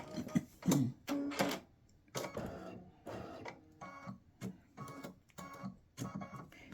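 An embroidery machine stitches on card stock with quick mechanical rattling bursts separated by short pauses, close and moderately loud, its needle chatter rising and falling in an uneven rhythm.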